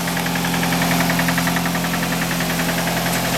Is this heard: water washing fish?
no